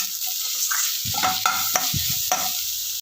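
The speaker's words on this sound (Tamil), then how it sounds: "இது எல்லாமே நல்லா இந்த வாசனை போகிற வரைக்கும் வதக்கிக்கலாம்" Spices for a large batch of rasam sautéed in a pan, with a steady sizzle under scraping stirs of a spoon against the metal, several brief clinks standing out, and no talking.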